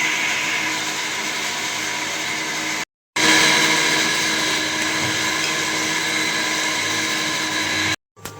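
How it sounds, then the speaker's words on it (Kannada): A kitchen mixer grinds onion, tomato, garlic and half a coconut into a paste, its loud, steady whirring running in long bursts with two brief stops. "ರುಬ್ಕೊಳ್ಳೋಕ್ಕೆ ಈರುಳ್ಳಿ, ಟೊಮೆಟೊ, ಬೆಳ್ಳುಳ್ಳಿ, ತೆಂಗಿನಕಾಯಿ ಅರ್ಧ ಹೋಳು"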